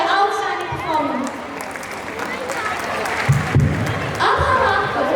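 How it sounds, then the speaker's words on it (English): Applause from a school audience after a storytelling club performance, moderate clapping mixed with crowd murmur and voices, uneven in level with a few louder bursts. "Let's give them a huge round of applause for their outstanding performance."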